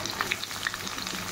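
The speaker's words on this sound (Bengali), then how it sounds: "এবার এই পেঁয়াজটা একটু ভালো করে ভাজা হোক" Chopped onion fries with marinated meat and spice paste in a pan, a soft, close sizzle with light stirring scrapes and small pops, no voices.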